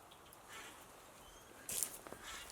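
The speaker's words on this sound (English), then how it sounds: "Hear the bird?" Faint bird calls come through from the woods beside a smoldering campfire, with one brief sharper chirp standing out against a quiet background.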